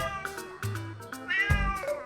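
A cat meows several times in quick succession, close and clear, with a drawn-out whining call near the end and short breaks between cries.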